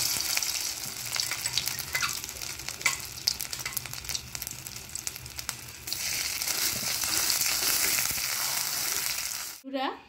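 Ground bottle-gourd-leaf and fish mash sizzles steadily in a hot pan with scattered stirring scrapes, growing a little louder midway before cutting off abruptly near the end.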